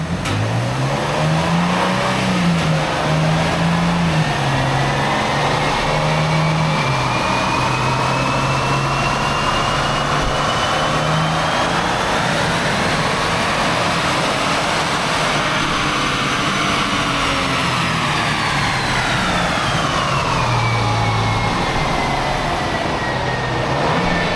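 A 2025 Infiniti QX80 engine runs loud and steady on a chassis dyno, its drone holding then climbing in pitch through a long pull before settling, with no talk over it.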